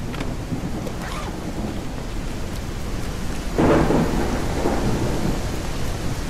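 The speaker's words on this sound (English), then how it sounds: "Beautiful rainy storm." Steady rain and a rolling thunderstorm in the survival game No One Survived, with a constant broadband downpour and a louder rumble of thunder swelling midway before easing back into the rain.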